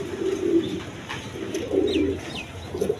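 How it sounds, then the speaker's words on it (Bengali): A pair of high flying Giribaz pigeons coos steadily in a low, throaty burble among other pigeons, with faint chirps and rustling in the background. "এইখানে এক পেয়ার হাই ফ্লাইং গিরিবাস কবুতর আছে"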